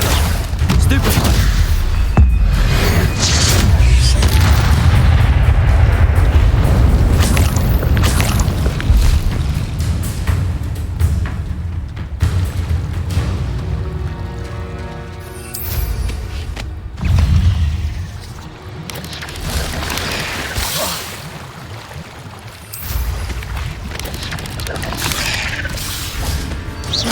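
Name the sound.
spell explosions from a Harry Potter video game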